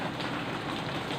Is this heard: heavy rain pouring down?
yes